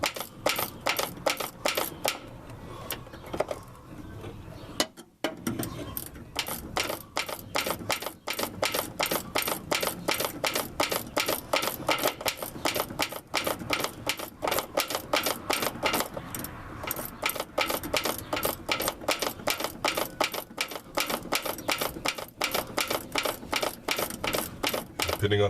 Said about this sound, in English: Again, ratcheting wrench to the rescue.